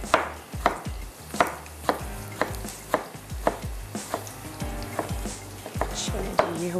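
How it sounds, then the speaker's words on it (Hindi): A knife chops tomatoes on a cutting board in a home kitchen while dal simmers, about a dozen sharp steady knocks at an even rhythm, close and clear, no talking. "टमाटर की कटिंग।"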